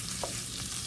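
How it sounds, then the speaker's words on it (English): Chorizo sizzling in a hot pan as it is broken up, a dense close frying hiss with a brief scrape of a utensil. "I don't want to burn the chorizo, so I'm gonna go ahead and just break it up"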